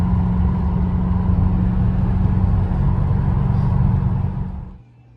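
A Callaway twin-turbo B2K C4 Corvette running 20 psi of boost on race fuel holds a loud, steady engine roar near the listener, then fades quickly at the end.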